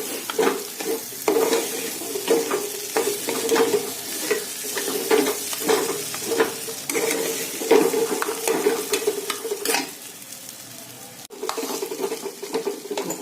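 Fish head with rice, green chillies and spices is sautéed in a pan, a busy sizzle punctuated by repeated scraping strokes of a spatula against the metal, close up and steady.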